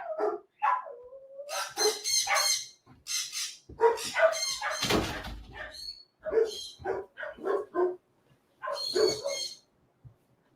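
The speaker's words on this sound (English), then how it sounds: "I just want to turn off those dogs by closing the door." Several dogs bark and yip in repeated bursts, muffled as if behind a closed door, with short pauses between volleys and one louder, harsher burst midway.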